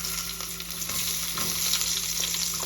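Garlic and onion sauté in hot oil in a pan for Filipino spaghetti, giving a steady close sizzle and crackle with occasional stirring scrapes and no talk.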